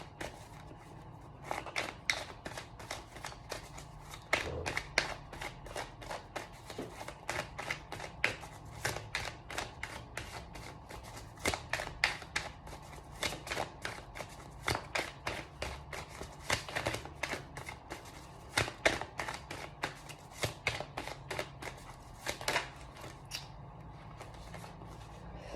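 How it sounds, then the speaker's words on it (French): Oracle cards are shuffled and drawn by hand, a long run of quick, crisp riffling and flicking strokes in bursts, close and fairly quiet, with short pauses between handfuls and no talk. "On va tirer peut-être 2-3 cartes."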